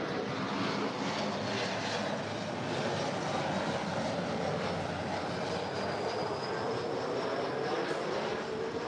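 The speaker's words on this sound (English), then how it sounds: "This is Alaska SkyWest Flight 3364 coming in from Eugene. It's a brand new Embraer E175LR." Alaska SkyWest Embraer E175LR jet airliner, flight from Eugene, arriving at LAX: a steady, loud broadband engine roar that holds constant throughout, with a faint tone slowly rising then falling as the jet passes.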